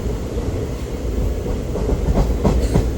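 A train rumbles steadily along the rails with rhythmic clickety-clack of wheels over joints, loud and continuous with no voices.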